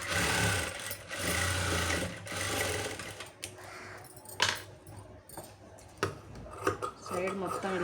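A sewing machine stitches a blouse seam in a steady mechanical whirring run broken by short pauses and clicks, with someone talking over it.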